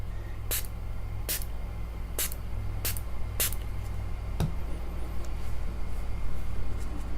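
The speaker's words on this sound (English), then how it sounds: "okay, and then spray." A hand spray bottle mists water onto a watercolor river landscape in five or six quick, sharp bursts, each a brief hiss over a steady low background hum.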